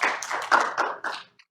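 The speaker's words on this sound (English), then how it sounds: "Round of applause there." Brief, close clapping from a small audience at an early childhood policy symposium for legislators, a few uneven bursts that quickly fade out.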